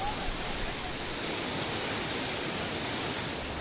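A waterfall in a water-rich area of Lechang roars as a dense, even wash of noise, unbroken and steady for the whole span.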